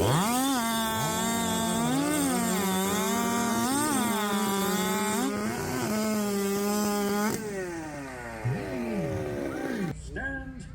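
Chainsaws roar at full throttle while cutting timber in a 2023 chainsaw race in Jackson, Alabama, loud and close, the engine pitch dipping and rising as they bog into the wood before dropping off near the end.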